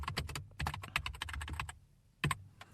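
Quick bursts of typing on a computer keyboard, crisp close key clicks in rapid runs with a short pause before a final few taps.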